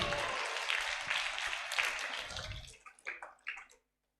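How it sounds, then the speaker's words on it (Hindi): Scattered applause from a gathering at a Jain religious storytelling session, a short patter of clapping that thins into a few isolated claps before falling silent. "तालियां।"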